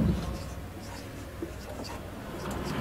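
A pen scratches steadily across paper as a maths question is written out, a soft, continuous close-up rasp with faint strokes.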